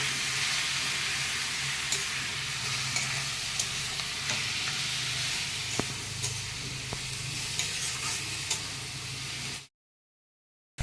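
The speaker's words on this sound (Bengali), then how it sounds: "ভালো করে আগে ভেজে নিই" Ash gourd sizzles steadily in a hot pan for halwa, with a constant hiss and occasional small pops, then the sound cuts off abruptly.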